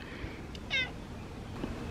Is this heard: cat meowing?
yes